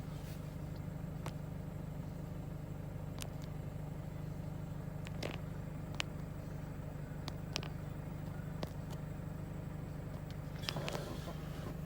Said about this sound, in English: It is running now, the vehicle